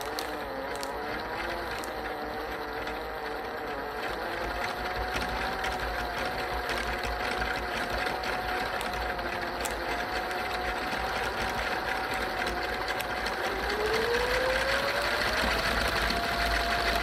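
A cone winder with an articulating arm winds yarn onto a bobbin, giving a steady mechanical whir that stays constant and fairly loud throughout, with a faint rising tone near the end.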